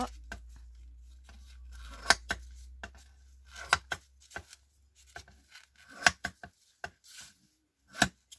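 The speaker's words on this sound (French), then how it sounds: "et là, par contre, je vais couper comme ça" Cutting through a dried mixture of glue, water and coffee: sparse, crisp snips and cuts, a dozen or so irregular taps and slices, close and fairly quiet against near silence.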